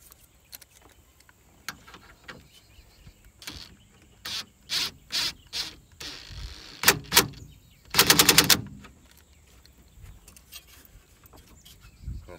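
An air impact gun fires in short bursts while tightening radiator bolts on a Fox body Mustang LX, several brief rattling zips, the last one longer and loudest, with quiet garage pauses between them.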